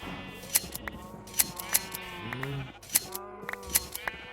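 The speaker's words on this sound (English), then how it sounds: "I love it when you shear them while they're eating, and then they instantly replenish their wool." Sheep being sheared with shears in Minecraft: sharp snipping clicks recur at intervals over bleating sheep, clear and close, with no talk.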